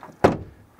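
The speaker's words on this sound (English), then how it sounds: "here the door closing sound is really bad actually" A single dull thud of a frameless door shutting on a BMW i4 M50 electric car nearby, brief and muffled, followed by a short fading rattle.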